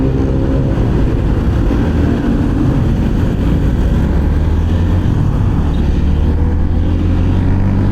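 A Honda Winner X motorcycle engine drones loudly and continuously while riding, with a steady rumbling roar and slight shifts in pitch as the throttle changes.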